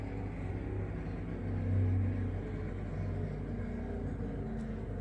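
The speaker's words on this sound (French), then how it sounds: "je vais m'arrêter parce qu'il y a un scooter qui passe." A scooter passes by outside as a muffled low rumble that swells briefly near the start and then fades back into steady background noise.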